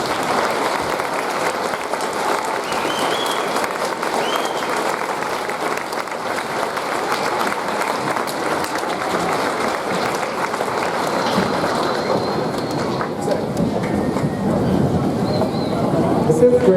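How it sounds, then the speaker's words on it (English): A school Veterans Day assembly applauds members of the American Legion Auxiliary, with sustained broad clapping from a large crowd in a hall and a faint murmur of voices underneath, growing slightly fuller toward the end. "stand and take a round of applause for all they do to support our veterans."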